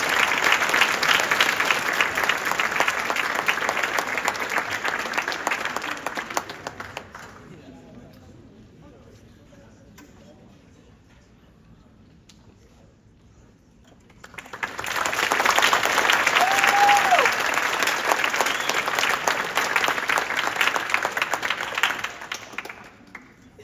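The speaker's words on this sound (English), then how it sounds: "Let's have one more round of applause" Audience applause at an awards ceremony: loud sustained clapping for about seven seconds, a quieter lull, then a second strong round of clapping that runs to the end.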